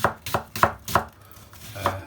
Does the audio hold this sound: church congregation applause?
no